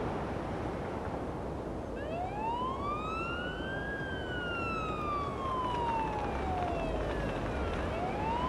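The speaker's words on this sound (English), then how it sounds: "Use the siren as needed." An ambulance siren in the video game Ambulance Life: A Paramedic Simulator wails in slow rising and falling sweeps over steady engine and road noise, loud and close, with no talking.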